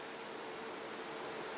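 Dense, steady buzzing of many honey bees swarming around an open hive, a continuous close hum with no pauses and no voices.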